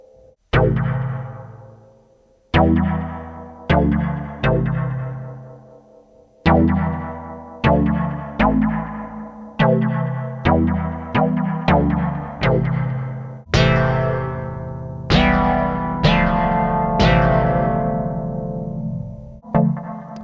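Dub techno chords from a Behringer DeepMind 12 synthesizer sound in repeated stabs, each followed by a decaying delay tail, steady and loud with no voices.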